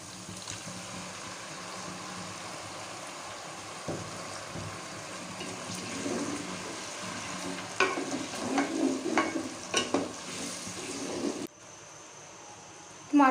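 Tomatoes tossed into frying chicken in a pan for murgh chanay, stirred in with a low continuous sizzle and a cluster of scraping, clattering stirs near the end, close and without speech.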